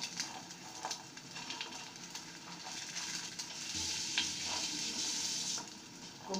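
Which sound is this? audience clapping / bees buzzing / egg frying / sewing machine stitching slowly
egg frying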